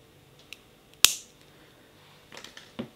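A single sharp snip of wire cutters trimming excess wire on handmade cross wirework earrings, close and crisp, followed by faint small clicks and handling noises in a quiet room.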